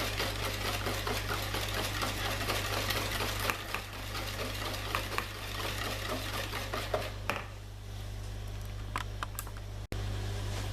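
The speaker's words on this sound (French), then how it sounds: "Vous continuez à mélanger l'ensemble pendant quelques secondes." An electric mixer blends fruit tart filling with scraped vanilla seeds, a steady motor whir with a low hum, changing pitch partway through and cutting off briefly near the end.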